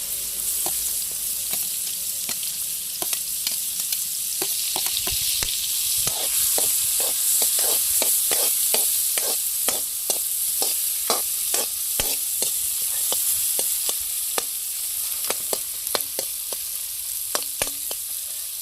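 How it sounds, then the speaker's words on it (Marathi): Onion sautés in butter in a pan for egg Maggi, giving a steady, close sizzle with regular clicks and scrapes of a stirring spoon. "आता आपण ह्याच्यामध्ये थोडासा कांदा आपला परतून घेऊया."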